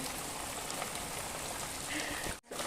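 Heavy unseasonal rain pours down steadily in Khandas village, a dense, even hiss of drops on surfaces, broken by a brief dropout near the end.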